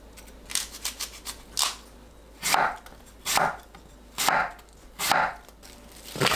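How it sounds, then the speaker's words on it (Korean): A cored apple being sliced thinly with a knife on a board, giving a series of crisp chopping strokes. A few quick cuts come first, then four slower, heavier slices that land at a steady, even pace. "사과 한 개를 심지 제거하고 얇게 썰어주세요."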